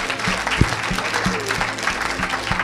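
Applause and cheering fill a church service, a dense crowd sound carried along by a steady low thumping beat that repeats every fraction of a second.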